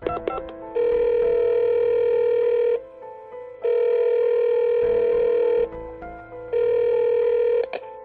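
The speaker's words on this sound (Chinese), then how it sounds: "孟昭立刻给陆时琛打电话" A telephone ringback tone sounds as a call is placed, three long steady electronic tones separated by short pauses, clear and alone.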